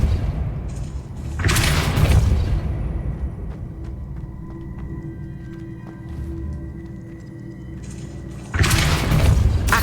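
A Depulso spell cast in Hogwarts Legacy gives loud booming bursts at the start and end, with a quieter rumbling stretch between them and no talk.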